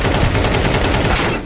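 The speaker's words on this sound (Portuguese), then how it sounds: "Tô tomando tiro, mano!" Rapid automatic gunfire from a video game fires in a loud, dense burst of close shots that tails off at the end.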